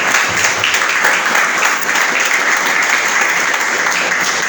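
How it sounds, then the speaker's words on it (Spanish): Congregation at a church sermon applauding in a steady, dense, loud wash of clapping that continues evenly throughout without pause. "un aplauso al Señor"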